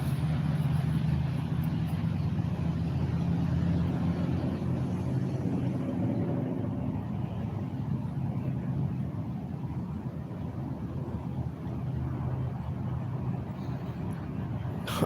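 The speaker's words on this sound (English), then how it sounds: "There's got to be something dragging on that car." A passing car with something dragging underneath it, heard outdoors as a loud, sustained rumbling roar that swells over the first few seconds and then continues as steady road noise.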